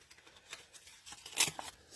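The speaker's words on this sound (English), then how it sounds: "I'm going to cut my gnome out a bit smaller" Scissors snip through card stock while a paper gnome is cut out smaller for a Christmas fun-fold card, giving a few quiet, close crisp cuts with one louder snip near the end.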